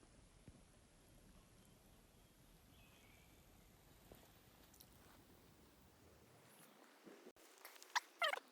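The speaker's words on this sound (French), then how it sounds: "Les oiseaux, c'est beau." Birds call outdoors near Mount Fuji in Japan during a camping trek, with faint, scattered calls over quiet open air that grow louder and closer in the last second or so.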